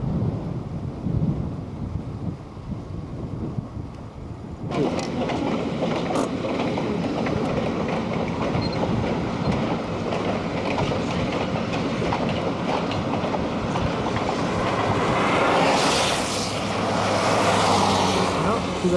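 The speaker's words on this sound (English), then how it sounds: "It's always fun to watch the engines go by." A long passenger train with double-decker cars rolls past in Alaska, a steady loud rumble with rail clatter running throughout the clip, which turns busier partway through, with a few faint voices underneath.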